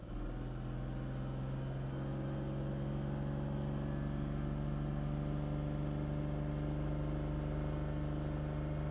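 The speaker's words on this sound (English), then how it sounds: "let's just get the car running at speed here" A car engine holds a steady raised speed, a continuous low, humming drone with even harmonics, fairly quiet and unchanging throughout.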